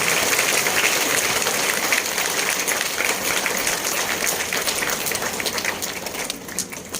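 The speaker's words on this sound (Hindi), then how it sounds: "खूब तालियां बजाओ" Dense, continuous clapping from an audience at a Brahma Kumaris spiritual gathering in Kurukshetra, loud and even throughout and thinning slightly toward the end, with no talking over it.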